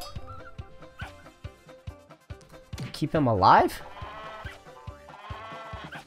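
Sheep bleat repeatedly in a video game, a loud wavering cry standing out among game music and clicky effects, with people talking throughout.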